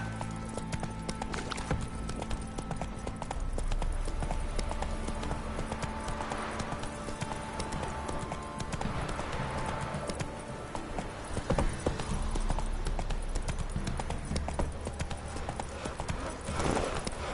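Roach the horse galloping in The Witcher 3, a steady rhythmic clip-clop of hooves running continuously at close range over ambient game background.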